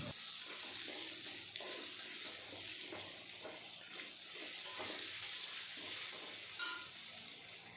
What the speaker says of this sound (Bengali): এই তেলের ভিতরে আলুগুলো ভেজে নেব।